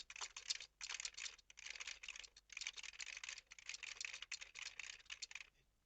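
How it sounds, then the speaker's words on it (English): Rapid typing on a computer keyboard used with an Amiga Workbench 1.3 system: quick bursts of crisp key clicks with brief pauses between runs, close and fairly quiet, with no voices. "Can find out by typing."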